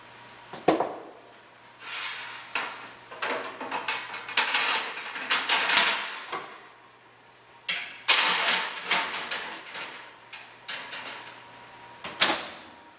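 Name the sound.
putting the dish into the oven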